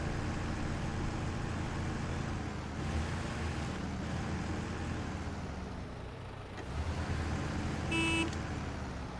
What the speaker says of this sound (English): Thank you for the honk.